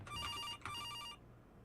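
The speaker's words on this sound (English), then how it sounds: "The phone's ringing." A telephone rings inside the pixel horror game From Next Door, two electronic trilling bursts separated by a short gap, clear and close with no voices over it.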